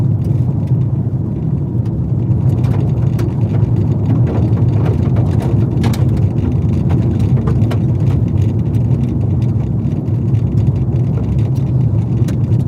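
Interior rumble of a rental car driving over a rough road, a loud steady low drone broken by frequent bumps and rattles, with no talking.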